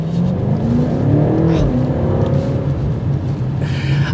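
A 2024 BMW M8 Competition coupe accelerating hard in second gear, its engine note rising steadily from inside the cabin, loud and continuous.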